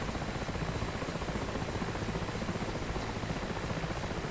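A Mi-8 helicopter flying in a video game, heard as a steady, continuous rotor and engine drone at an even level throughout, with no speech.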